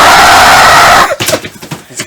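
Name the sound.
player imitating a goblin screaming in a tabletop role-playing game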